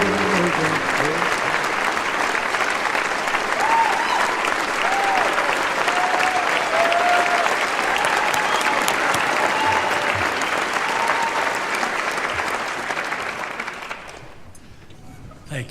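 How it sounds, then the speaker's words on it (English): Sustained applause from a large audience, steady and dense for most of the time, then fading out near the end. "Thank you very much for that applause."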